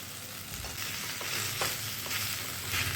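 Mustard paste being stirred into chalta (elephant apple) for a sweet pickle, a steady moist scraping and mixing texture with soft wet clicks, continuous and close, with no talking.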